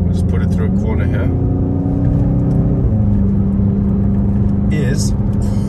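A Volkswagen Golf TCR engine drones steadily from inside the car while it takes a corner, its hum briefly dipping in pitch before settling again, with someone talking over it throughout.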